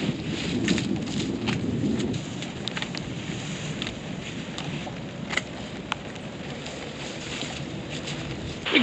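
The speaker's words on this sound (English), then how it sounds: "the rain is back and we don't necessarily feel like picking in the rain" Steady rain pours down on a farm by the sunflower patch, a dense hissing wash with a low rumble of thunder and wind buffeting underneath, continuous and fairly loud with no one speaking.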